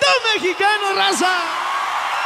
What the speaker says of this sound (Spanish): Y échenle un grito mexicano,